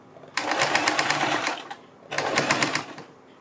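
A sewing machine stitching a fabric strip onto a kurti neckline, running in two steady, loud, close bursts of rapid needle rattle separated by a short pause.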